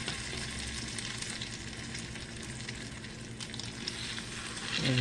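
French toast bread fries in a hot skillet, producing a soft, steady crackling sizzle that stays faint and even throughout, with a slight swell at the end.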